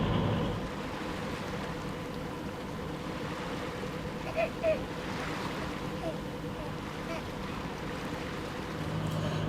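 A sailboat motors along on calm water with no wind, a steady low engine drone and hull wash running throughout, with a couple of faint knocks in the middle.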